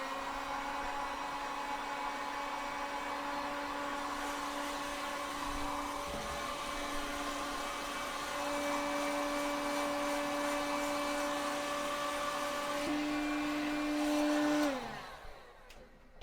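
A heat gun blows a steady whirring rush of hot air onto old, long-fitted hoses during a water pump rebuild, its motor hum holding constant before spinning down near the end.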